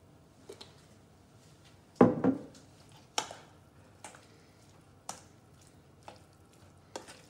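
Boiled potatoes are stirred and tossed with vinaigrette in a bowl, a string of soft wet squelching scrapes at an irregular, unhurried pace, the loudest turn near the start, close up with no talking.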